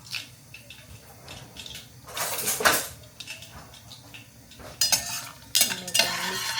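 A spoon stirring garam masala into dal in a metal pot, with bursts of scraping and clinking against the pan between quieter moments and a faint sizzle underneath.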